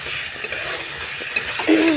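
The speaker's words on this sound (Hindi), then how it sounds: "इसको भून के फ्राई करेंगे अच्छे से।" Chopped tomatoes and green peas fry in a pan with a soft, steady sizzle, stirred with light scraping, and a brief louder hiss near the end.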